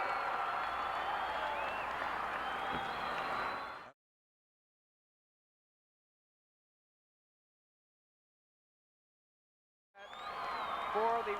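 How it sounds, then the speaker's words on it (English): A crowd at a 1980 Wisconsin state wrestling final cheers loudly and continuously, cuts to dead silence for several seconds, then the cheering resumes. "the reason you hear that noise is because that is the cheering section from Stoughton, Wisconsin, and they are cheering for Scott"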